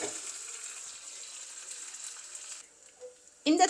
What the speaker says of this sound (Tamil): இப்போ இது கொஞ்சம் பொரியட்டும்.